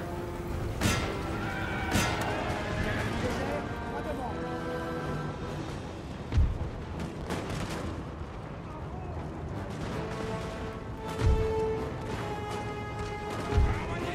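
Horses whinny repeatedly amid a chaotic Napoleon: Total War battle, with sharp crashes and booms punctuating the clamor and voices in the background.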